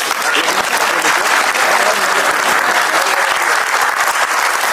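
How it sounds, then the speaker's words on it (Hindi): A Bollywood mushaira poetry gathering erupts in dense, sustained audience applause, loud and continuous throughout, with crowd noise blended in. "तालियां बजाइए"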